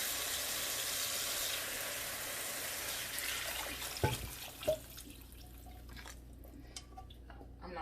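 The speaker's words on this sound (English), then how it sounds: "And then you're going to add your water for your rice." Water pours into a hot pan of rice for Spanish rice, a broad hiss and splash giving way to sizzling and a few drips, close and with no talking.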